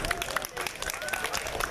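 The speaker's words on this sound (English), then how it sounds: "Round of applause for Sailor Jupiter" A comic con crowd applauds a Sailor Jupiter cosplayer at a cosplay contest, with brisk, dense clapping and crowd noise and voices mixed in.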